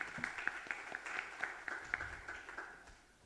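Audience applause at an international youth talk event, a brief spatter of claps that starts lively and fades out after a few seconds.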